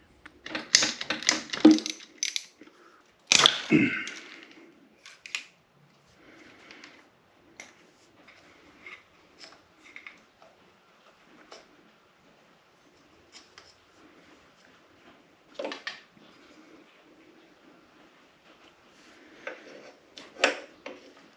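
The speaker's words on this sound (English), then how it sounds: "we're good to start removing these tensioner bolts, 2 on this side and then 2 on this side down here" Tensioner bolts being removed on a 1975 Honda GL1000 Goldwing, heard as a series of close metallic clicks and ratcheting taps with a couple of louder clanks, spread in bursts across a quiet workshop background.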